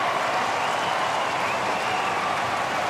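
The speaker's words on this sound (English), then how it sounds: "And the crowd are on their feet." An AFL stadium crowd roars and applauds after a goal at a Greater Western Sydney versus Hawthorn match, a loud, dense, sustained wash of cheering and clapping, with commentary voices faintly under it.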